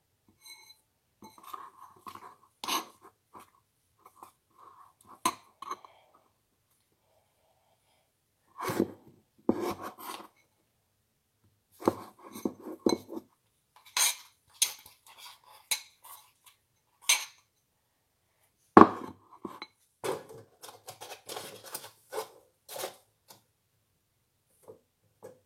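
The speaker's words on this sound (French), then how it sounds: "Hop, je mélange." Intermittent scraping and clinking of a utensil stirring glue-free slime in a bowl, short bursts separated by quiet pauses, close and fairly soft.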